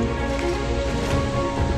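Heavy rain pours down on a forest hiking trail, a dense, constant hiss and patter of drops striking leaves and ground all around, loud and close with no voices.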